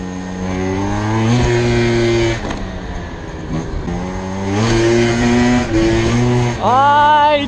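A Yasuni Z scooter engine revs during wheelie practice on a quiet road, rising and falling in several sustained pulls, loud and close, with a final sharp climb in pitch.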